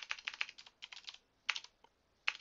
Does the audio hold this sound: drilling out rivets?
no